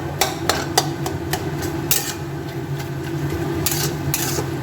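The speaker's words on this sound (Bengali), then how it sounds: "পেঁয়াজটাকে ভালো করে একটুখানি ক্র্যাশ করে নেবো মানে নেড়ে ছেড়ে নেবো" Softened onions stirred in a cooking pot while mutton curry is being prepared, with a utensil scraping and knocking against the metal in a run of sharp, irregular clanks close by over a steady low background hum.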